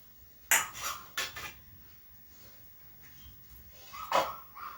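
Rice and egg curry being served onto a plate: a few sharp clinks of utensils against dishes, with quiet rustling between, close and sparse.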